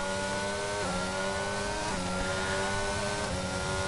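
A McLaren Formula 1 car engine screams through a hot lap at Australia in the F1 22 racing game, holding a steady high-pitched whine with brief dips at gear shifts before climbing again, loud and continuous with no talk.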